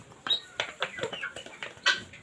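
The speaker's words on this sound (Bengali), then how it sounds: "এখানে তিন প্রকারের ব্রাহ্মা মুরগি আছে।" Brahma chickens, one of them red, give a few short clucking calls at close range, spaced irregularly over a couple of seconds.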